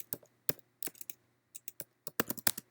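Fingers typing on a computer keyboard, close and crisp, with irregular bursts of key clicks separated by brief pauses and a faint low hum underneath.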